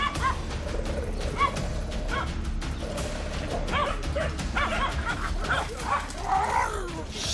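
Several hunting dogs bark, yip and whimper excitedly during a boar hunt in Sumatra, a dense continuous clamour close by with overlapping calls and a voice occasionally heard beneath.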